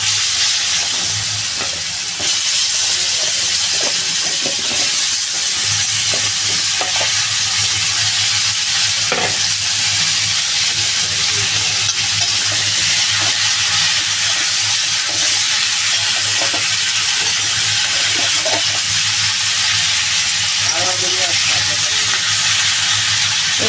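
Potato and kohlrabi pieces fry and get stirred in a pan with ground coriander and cumin, giving a steady loud sizzle with repeated scraping stir strokes throughout.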